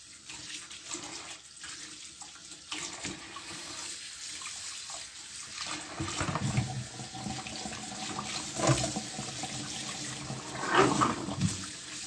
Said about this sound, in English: So right now we just individually rinse it all out